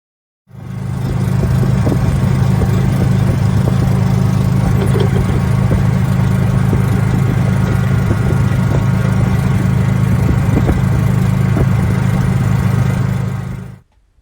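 An EZGO TXT golf cart's 400cc Kawasaki engine runs at a steady idle, a constant low drone that starts abruptly, holds evenly for about thirteen seconds and then cuts off, with no voices.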